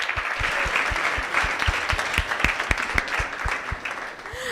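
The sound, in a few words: applause from audience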